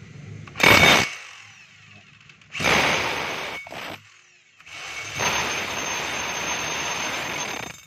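A DeWalt D25032 rotary hammer runs in hammer mode after a front housing and brush holder repair, giving loud, harsh buzzing bursts: a short burst, a longer one with a brief restart, then a sustained run, close and alone without talk.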